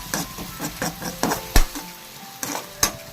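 Sliced onions and crushed chillies frying in a pan, a low sizzle broken by repeated scraping stirs and sharp clacks of a spoon against the metal, close and clear with no talking.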